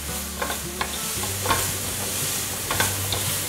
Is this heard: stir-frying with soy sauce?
yes